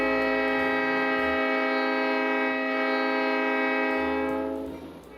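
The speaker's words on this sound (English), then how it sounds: "With the blast of the horn" A train horn on a Santa Christmas train in rural Indiana blasts loud and steady, holding one long chord for about five seconds before fading slightly at the end.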